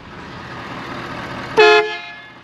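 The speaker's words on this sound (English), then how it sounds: "Here's the truck horn." A short, loud blast of a truck air horn on a Ford F550 motor home, a brassy multi-tone honk lasting a fraction of a second, over a steady compressor hum.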